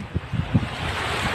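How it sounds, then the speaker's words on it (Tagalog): Wind blows steadily across the sea at low tide, with a broad, even rush and low gusting thumps like buffeting on the microphone, close and fairly loud, with no voices. "Naririnig nyo ba yung hangin?"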